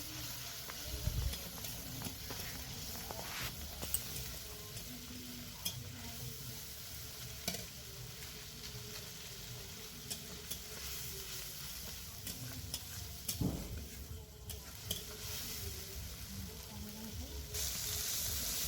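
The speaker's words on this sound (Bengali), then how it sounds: "সব মশলা একসাথে ভালো করে কষে নেব।" Dried red chilli powder and coriander powder being fried and stirred together in a pan, a soft continuous sizzle with scraping stirs and occasional louder knocks of the spoon, no voices.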